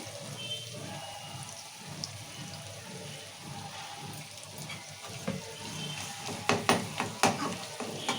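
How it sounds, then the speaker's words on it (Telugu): Brinjals fry in oil with a steady, moderate sizzle, joined near the end by several sharp stirring knocks against the pan; no speech. "ఇట్లా నూనెలో ఉట్టించుకోవాలి వంకాయలు"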